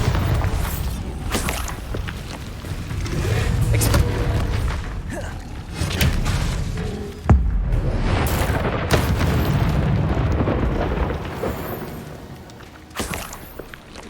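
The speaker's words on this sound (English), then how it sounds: "Bombarda." Bombarda explosion spell cast in Hogwarts Legacy on PS5: a deep booming blast with a sharp impact partway through, amid a busy wash of rumbling game effects and footsteps that fade toward the end.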